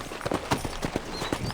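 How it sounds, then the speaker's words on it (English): Horse hoofbeats clip-clopping at a steady riding gait in Red Dead Redemption, a rhythmic run of sharp hoof strikes close by, moderately loud with faint game ambience behind. "let's see if you can still ride a horse"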